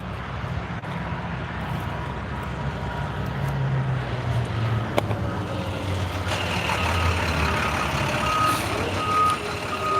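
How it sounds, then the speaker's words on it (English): A CDOT truck arriving on the I-70 highway, its engine rumbling close by while reversing beeps repeat in a steady rhythm, with traffic noise and a brief air hiss around it. "We got a truck coming."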